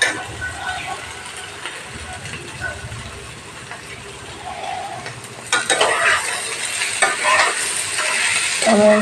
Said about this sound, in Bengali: পেঁয়াজটাকে আর একটু ভাজা হলে ভালো হতো।